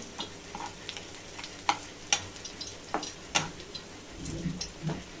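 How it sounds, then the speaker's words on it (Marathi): Whole spices frying in a pan for a cauliflower bhaji: a soft, low crackle with scattered sharp ticks and pops, fairly quiet and close. "खडे मसाले पण फ्राय करायचे आपल्याला."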